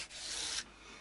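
Worn-out sandpaper rubs across wood during a guitar setup, a single soft, close scratchy stroke lasting about half a second before fading to quiet.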